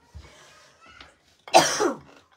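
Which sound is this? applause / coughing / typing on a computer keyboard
coughing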